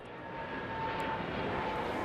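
Aircraft at Heathrow Airport, a steady broad jet engine roar that grows slightly louder as a plane passes at moderate distance, with no voices.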